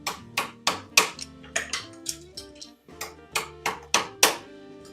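Steady hammer blows on a garage garden platform build, about a dozen sharp ringing strikes in a regular rhythm, close and loud, with a short pause midway and no talking.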